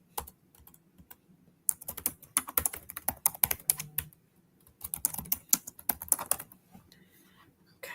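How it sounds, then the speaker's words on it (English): Typing on a computer keyboard: close, quiet, irregular clicks in quick runs with a short pause near the middle, heard alone. "I'm going ahead and typing this information in over inside of the portal"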